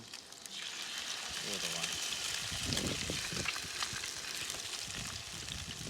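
Salmon fillets sizzle steadily in a hot pan, a constant crackling fry that stays close and even, while someone talks quietly over it.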